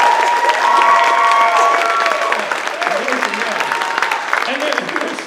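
An audience at a 24-hour play festival claps for the playwrights, a loud, sustained round of applause with some cheering mixed in.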